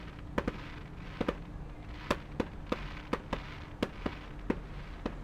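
A string of sharp firework pops and cracks in a video game, uneven rhythm, about a dozen bursts over a low background rumble.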